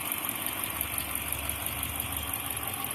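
A Dodge engine, on a Challenger, Charger or 300C after a transmission cooler bypass fix, idles with a steady, even hum and a faint rhythmic pulse, heard alone.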